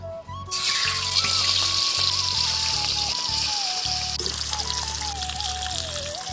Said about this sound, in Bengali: কড়াইতে তেল গরম হয়ে গেছে, এবার মাছগুলো ভেজে নিব।